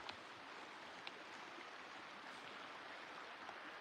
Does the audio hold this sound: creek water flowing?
yes